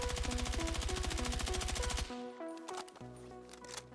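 An M433 rifle fitted with attachments fires a rapid automatic burst in Battlefield 6 for about two seconds, loud and evenly paced, then stops, leaving faint game effects and a low hum.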